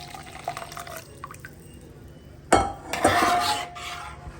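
Coconut milk from finely ground coconut is poured into a cooking pot, starting with a sudden splash and a liquid rush, then trickling, amid faint clinks of a metal vessel.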